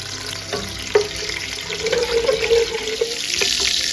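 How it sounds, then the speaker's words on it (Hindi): Cumin seeds sizzle and crackle in hot oil with a steady frying hiss, a few sharper pops scattered through. "मैं इसके अंदर जीरा डाल रही हूँ"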